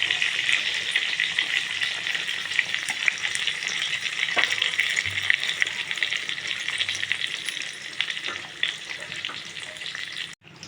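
Eggplant pieces frying in oil over low heat, giving a steady, dense sizzle close by with occasional small clinks and stirring, and no voices.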